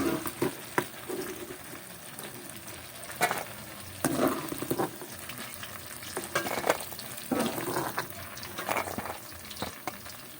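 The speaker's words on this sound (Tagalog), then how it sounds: "mag-gisa na tayo ng ating sibuyas at bawang" Onion and garlic sauté in a pan with a steady sizzle, broken by repeated scraping stirs from a spatula.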